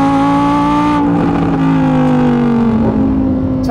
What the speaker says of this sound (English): It will never replace the sound of this naturally aspirated V10 engine that is sitting literally right there as well.